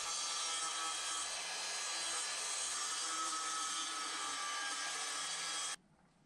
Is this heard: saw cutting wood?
yes